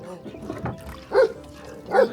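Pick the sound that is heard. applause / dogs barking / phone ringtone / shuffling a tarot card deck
dogs barking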